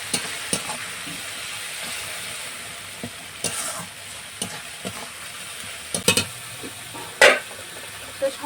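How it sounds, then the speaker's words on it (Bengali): Spice masala of chilli and coriander powder is stir-fried in a pan for an egg and cabbage kofta curry, a steady close sizzle broken by scattered scrapes and clacks of a spatula, with one sharper burst near the end. "দিয়ে মশলাটা খুব ভালো করে কষিয়ে নেব।"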